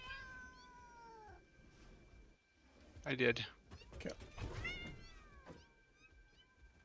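Creature cats in the video game Satisfactory meow and yowl in repeated cries, some close and loud, others farther off, with brief speech and game thuds mixed in.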